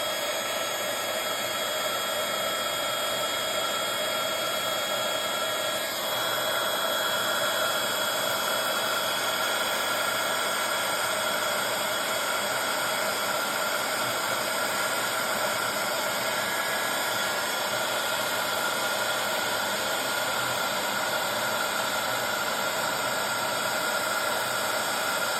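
Heat tool blowing steadily on embossing paste over a stencil, a continuous loud airy roar with hiss that holds unbroken throughout, its tone shifting slightly partway through.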